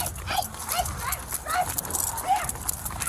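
A police attack dog barks and yelps repeatedly during a foot pursuit, short sharp calls at an irregular quick pace, with voices and scuffling around it.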